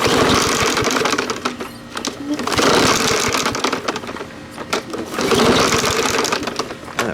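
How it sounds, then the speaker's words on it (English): Recoil starter repeatedly yanked on a Yard Machines mower with a Briggs 550ex engine that will not run, a harsh rattling whir in three long pulls that rise and fall, close up with no voices. "That recoil sounds awful."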